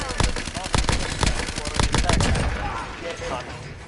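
Dense automatic gunfire in the Warzone video game: rapid, loud bursts of shots in close succession that thin out toward the end, with a voice speaking over the shooting.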